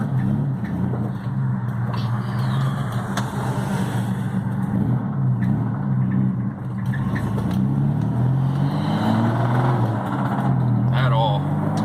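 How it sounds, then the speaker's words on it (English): A small-block Chevy 305 V8 runs rough, its loud, uneven low rumble droning on steadily throughout, with a few brief voices over it. "This motor does not sound good."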